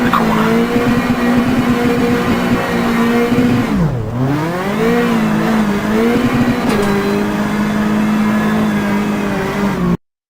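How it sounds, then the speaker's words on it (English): Rally car power sliding through a corner in the Richard Burns Rally video game, engine loud and close; the revs dip sharply mid-slide, then climb and hold steady as the car pulls through. "Use the throttle and steering to continue the slide through the corner."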